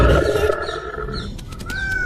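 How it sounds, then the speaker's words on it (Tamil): A cartoon lion roars while hunting, a loud, sustained growling roar that fills the short stretch with a brief higher call near the end. "அது சிங்கராஜா வேட்டையாடுறாரு."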